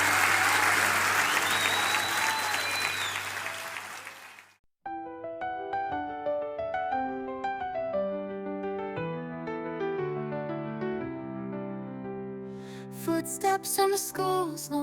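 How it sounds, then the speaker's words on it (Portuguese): A church congregation claps loudly and steadily as a dense wash of applause, cutting off abruptly before a piano-like melody takes over, with a brief burst of clapping or percussion returning near the end. "Você pode dar ao Senhor um forte aplauso pela decisão dele."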